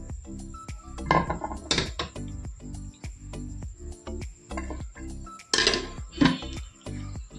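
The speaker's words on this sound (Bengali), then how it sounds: "রিয়াকে ভাত বেড়ে দিয়ে দিচ্ছি" Dishes and utensils clink and clatter as rice is served, with sharp close metallic and ceramic knocks in irregular bursts, some louder scrapes, and no talking.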